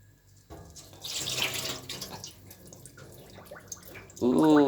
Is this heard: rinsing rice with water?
yes